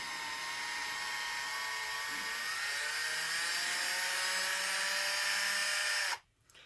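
Power drill on a low torque setting loosening the factory screws of a Losi DBXL-E RC truck, a steady high-pitched whine running for about six seconds, close and alone, then cutting off abruptly.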